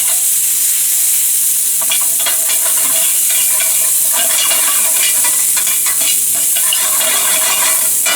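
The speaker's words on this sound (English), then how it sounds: "I'm going to just saute the green beans to just get a little bit of color on the outside of them" Green beans sautéing in a hot pan, a loud, close, unbroken sizzle with faint stirring scrapes and no voices.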